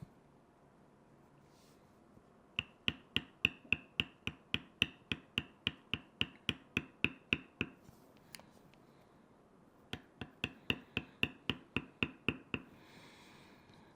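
A leather beveling tool struck with a mallet while tooling a leather wrist guard for a mouse pad: rapid, crisp, evenly spaced taps in two long runs, close and clear, with a brief pause between runs.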